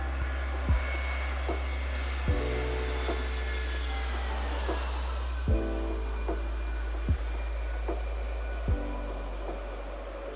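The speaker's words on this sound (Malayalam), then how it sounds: "മാൽദീവിയൻ, മാലി തിരുവനന്തപുരം ബോയിങ് 737 വിമാനം." Boeing 737 airliner of a Maldivian carrier on the Malé–Thiruvananthapuram route, landing at Thiruvananthapuram airport: a steady, fairly distant engine roar sweeps past, with a few sharp clicks and thumps nearby, no talk.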